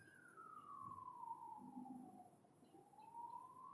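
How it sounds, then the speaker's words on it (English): A faint ambulance siren wails outside, rising and falling in the distance, sweeping slowly in pitch before fading slightly, with low background hum. "Sorry, I'm waiting for the siren to go."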